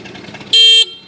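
A single short honk from a scooter's horn, nearby and sharp, lasting about a third of a second against quiet surroundings.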